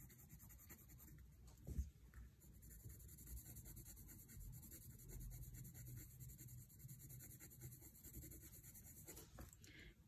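Colored pencils scratch steadily across paper, shading a drawn autumn leaf in green and red tones, a continuous close, quiet rubbing with a brief louder tap near the start.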